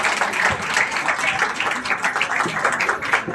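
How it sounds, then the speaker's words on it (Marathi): Audience applause for dance performers at a baby shower celebration, steady dense clapping from a crowd throughout, fairly close and continuous without breaks. "आपण एकदा जोरदार टाळ्या वाजवू यांच्यासाठी"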